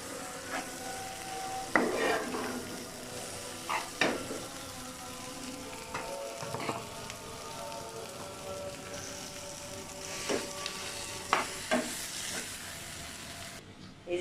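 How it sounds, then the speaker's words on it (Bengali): Potato fries in mustard oil with a quiet, steady sizzle while occasional scraping stirs punctuate it, and no one speaks. "যেহেতু সরষের তেল দিয়ে ভাজছি, আলুটা দিয়ে আমি সরষের তেল দিয়ে করে দেবো।"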